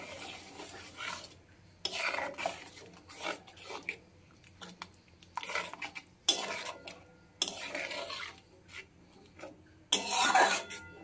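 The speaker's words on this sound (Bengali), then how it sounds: "নেড়ে দিলাম, ভালো করে নেড়ে দিতে হবে।" Fish curry gravy for tel koi is stirred in a pan with a metal spoon, giving repeated scraping and rubbing bursts in uneven strokes with short pauses between, close and fairly clear.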